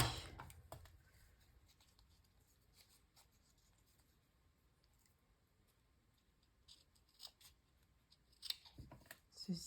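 Scissors cutting paper for a scrapbook album, faint close snips and rustles scattered across a quiet room, growing busier with crisp cuts and paper handling toward the end.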